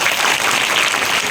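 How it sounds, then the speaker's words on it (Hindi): Audience clapping at a street play for public awareness, a dense, continuous wash of many hands applauding close by for the whole moment, with no clear voices. "तो बजाओ ताली, हम नाटक शुरू करते हैं।"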